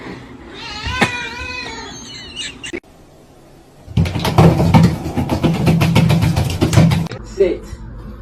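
A house cat lets out a couple of drawn-out, wavering meows up close, then a stretch of louder, busier rustling and clatter follows near the end.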